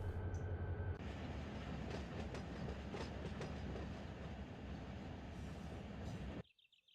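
Freight train rolling in Run 8 Train Simulator, switching locals around Bakersfield and Kern Oil: a steady loud rumble of wheels and cars with rhythmic clickety-clack over the rails, cutting off abruptly near the end.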